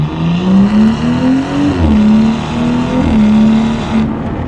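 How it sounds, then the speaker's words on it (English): Tuned BMW F30 engine and exhaust with the valves open, a deep, steady burble that rises and falls slightly in pitch, loud and close with no talking. "All engine, all induction, all exhaust."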